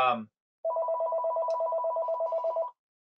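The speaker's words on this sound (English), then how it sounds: "I apologize for the office line ringing." An office telephone rings with one steady electronic warble lasting about two seconds, loud and close, after a brief burst of speech at the start.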